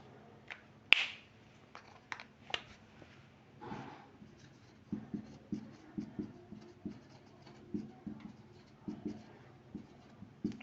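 Chalk or pen writing during a Measurements and Instrumentation lecture on limiting errors, heard as a run of faint, short scratchy strokes in uneven rhythm, fairly close, with no voice over them.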